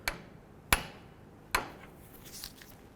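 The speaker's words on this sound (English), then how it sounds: "Now let's torque it to manufacturer specifications. Torque this to 59 foot-pounds." A torque wrench tightens a front lower control arm bolt to 59 foot-pounds on a Ford Crown Victoria, giving three sharp, separate metallic clicks about a second apart, close and clear against a quiet background.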